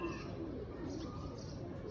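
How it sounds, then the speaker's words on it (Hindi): Pigeons coo softly on a cool day, low throaty calls faint and close under a steady background hiss, with little else heard. "तो आज कबूतर काफ़ी आए थे बच्चे बुच्चे"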